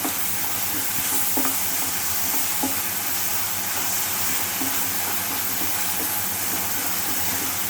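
Sliced onions sautéing in a pan for an egg curry, a steady close sizzle and hiss running throughout, with occasional scrapes and taps of a spoon stirring them, no talking.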